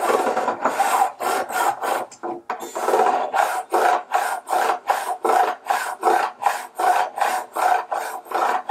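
A metal file rasps back and forth across a metal guitar fret in steady, even strokes, about two per second, close and loud with no talking.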